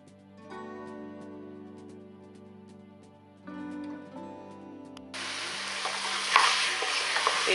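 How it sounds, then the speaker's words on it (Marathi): Mutton pieces turmeric-seasoned and frying in a pan, stirred for a Kolhapur-style mutton pickle; a steady sizzle with scraping stir strokes, then a louder, hissier burst of frying near the end, no talk. "तर मी जरा असं मटण भाजून घेतो आहे."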